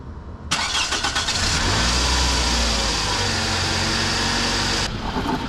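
A car engine cranks and catches, then settles into a steady, loud idle with a low rumble that continues to the end, running to power an air pump.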